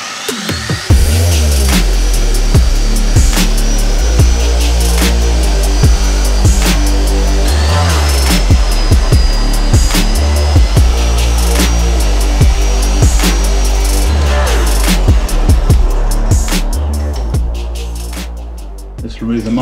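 A dual action polisher with a finishing pad runs in 15 mm mode on a 2018 Honda Civic, giving a loud, steady whirring drone throughout with faint ticks, slowly winding down near the end.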